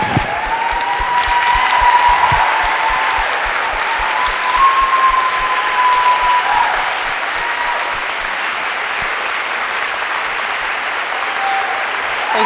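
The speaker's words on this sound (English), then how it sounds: "Montreal, let's give another round of applause." Sustained round of applause from a lecture audience in Montreal at the Beatty Memorial Lecture, steady dense clapping filling the hall for over twelve seconds with faint cheers near the start.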